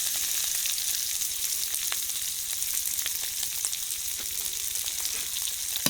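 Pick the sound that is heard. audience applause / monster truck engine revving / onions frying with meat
onions frying with meat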